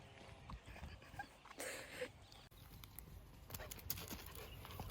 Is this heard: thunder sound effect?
no